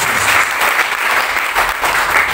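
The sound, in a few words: applause in church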